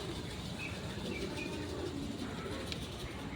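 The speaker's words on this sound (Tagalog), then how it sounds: "ang dami niyang alaga, kalapati oh" Soft cooing of pigeons in a noisy outdoor park setting in Baguio City, faint and distant under steady background noise.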